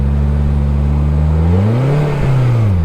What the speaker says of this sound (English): Dude, the back wheel just keeps breaking loose.